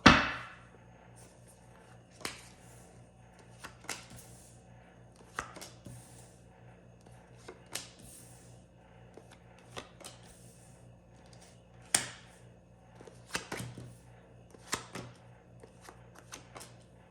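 A tarot deck is shuffled, cut three times and restacked, giving soft papery riffles and sharper taps and slaps at irregular intervals, close but quiet over a faint hum.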